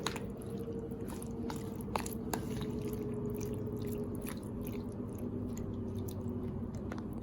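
Raw chicken pieces being mixed by hand with salt and pepper, giving soft wet squishing and light clicking sounds at close range over a low steady background hum.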